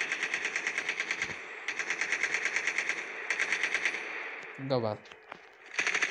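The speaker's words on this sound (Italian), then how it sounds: "Chi sta a sparare quello lì?" Rapid bursts of automatic gunfire in Call of Duty Mobile come in several sustained volleys, loud and close, with a brief spoken question midway and more firing resuming at the end.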